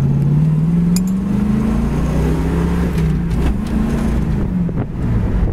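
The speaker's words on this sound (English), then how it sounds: "So really a nice running driving Mustang." A 1965 Ford Mustang convertible cruises along with a steady, droning engine note that rises and falls gently with the gears, heard close up under heavy wind buffeting on the microphone.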